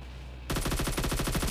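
Rapid automatic gunfire bursts out suddenly in a PUBG Mobile team deathmatch, a loud, close rattle of evenly spaced shots continuing without pause.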